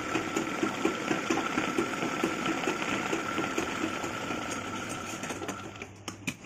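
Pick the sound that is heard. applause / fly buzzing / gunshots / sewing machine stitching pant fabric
sewing machine stitching pant fabric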